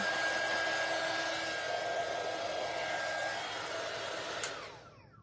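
A hair dryer runs steadily while drying a botanical craft piece meant for a floating frame, giving a continuous close whoosh that fades as it switches off near the end. No one speaks.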